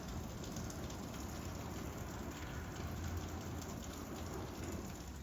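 Heavy, steady rain pours down at a Cape Cod beach like a tropical downpour, a dense, unbroken hiss of drops that stays loud and constant throughout with no voices.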